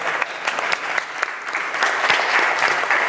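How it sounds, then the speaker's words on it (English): An audience claps continuously at a Pixologic Summit 2014 presentation, a steady dense patter of many hands filling the room, with faint talk underneath. "Go ahead and clap."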